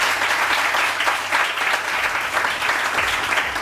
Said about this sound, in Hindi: सो आप लोग अपने लिए भाई तालियां हो जाए अपने लिए